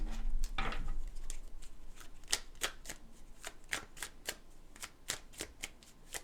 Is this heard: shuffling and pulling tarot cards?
yes